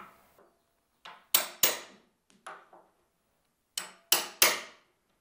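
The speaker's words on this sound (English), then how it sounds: "I'm just going to set the corner chisel in, give it a smack" A corner chisel driven by sharp blows to cut a hinge mortise while hanging a new door in an old jamb: crisp, loud smacks in two bursts of about three strikes each, with lighter taps between and nobody talking.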